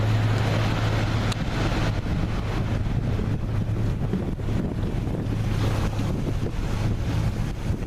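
A 60-foot Sunseeker Renegade motorboat's engines drone low beneath heavy wind buffeting and rushing, splashing water as the boat cuts through waves.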